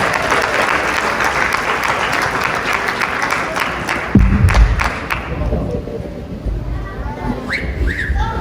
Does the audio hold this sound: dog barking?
no